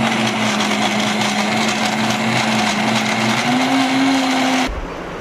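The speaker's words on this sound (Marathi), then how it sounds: "आता या मिक्सरमधनंच काढतोय चटणी" A kitchen mixer grinder grinds chutney in a steady, loud, continuous whine with a slight rise in pitch near the end, then cuts off abruptly into quiet.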